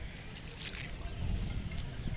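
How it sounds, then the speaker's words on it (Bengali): A small boat rowed on the Dhaleshwari river, a low rumbling wash of water and wind noise that swells toward the end, with no clear speech. "নৌকা ভ্রমণ করতেছি"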